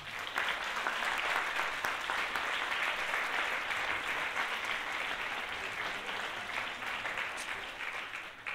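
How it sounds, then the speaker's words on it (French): Sustained audience applause fills a hall after a team in cat costumes with pretty ears is introduced, a dense steady wash of many hands clapping for over eight seconds, fading slightly toward the end. "nous avons une équipe de petites félins félines qui sont là-bas avec leurs jolies oreilles qu'on peut applaudir très très fort"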